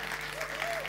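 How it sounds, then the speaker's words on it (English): Audience applause for the speaker's father at the NOAH19 Tel Aviv tech conference, a brief steady patter of clapping with a faint tonal hum underneath. "Big round of applause to my dad."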